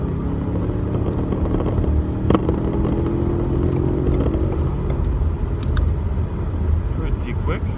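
A 2018 Ford Fusion Sport AWD accelerating hard, a steady engine drone rising under continuous cabin road noise with brief clatters, heard from inside while a person talks over it.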